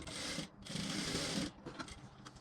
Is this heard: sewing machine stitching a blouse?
yes